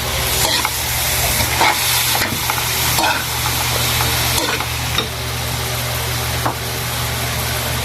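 Sliced radish gets stirred in a frying pan with liver, a constant close sizzle broken by repeated scraping and clacking strokes of a spatula against the pan, no one talking.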